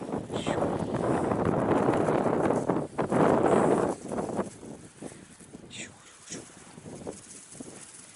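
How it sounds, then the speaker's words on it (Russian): Gusts of wind buffet the microphone in a loud roar for the first few seconds, then ease into softer rustling with occasional bumps. "Ветер."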